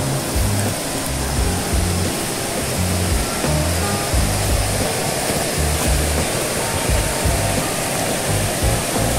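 A private waterfall on a large rural property in Santa Isabel pours in a constant, loud, broadband roar that stays even throughout, with a low rumble underneath.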